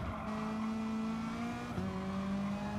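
Race car in GT Sport downshifting to second gear for a hairpin, a loud continuous engine tone that steps down in pitch as the gear drops, with no voices.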